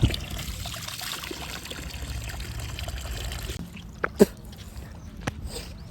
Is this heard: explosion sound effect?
no